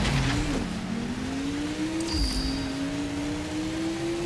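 A Transformer racing in car form in Transformers: Revenge of the Fallen, its engine holding a steady, droning whine that climbs gradually in pitch. Loud and continuous, with no talk over it.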